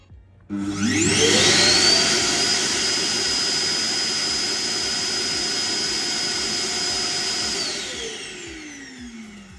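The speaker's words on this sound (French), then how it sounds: "quand la base aspire les poussières qui se trouvent dans le robot, ça fait un bruit phénoménal" An iRobot Roomba Combo J7+ base starts emptying dust from the robot, its motor rising abruptly to a loud, high-pitched whining suction roar, holding steady for several seconds, then winding down.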